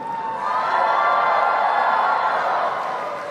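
A large crowd cheers and shouts in a steady, loud roar that carries on without a break, with whoops rising out of the mass of voices.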